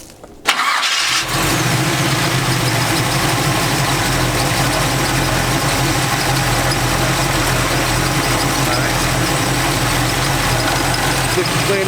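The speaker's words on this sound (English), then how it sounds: "The exuberance of the small block Chevrolet." Cammed small block Chevrolet V8 in a C10 truck cranks and fires, then settles into a loud, lumpy, choppy idle that rumbles on steadily close by.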